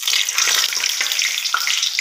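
Bay leaf frying in hot mustard oil in a wok, a steady bright crackling sizzle with small pops, close and fairly loud, with no voices.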